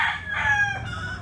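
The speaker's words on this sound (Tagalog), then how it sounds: "Dito po yung mga stags namin." A gamecock stag crows on a game farm, a single loud, close, drawn-out call over a low rumble of background noise.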